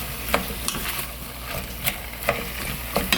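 Radish and squid stir-fried without oil in their own moisture for a mild squid soup: a spatula scrapes the pan in a steady, close rhythm, with brief scratchy strokes under a soft background hiss.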